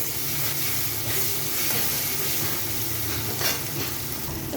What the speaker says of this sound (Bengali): পেঁয়াজটা ভাজা হয়ে গেছে, তো এখানে আমি দিয়ে দিচ্ছি রসুন বাটা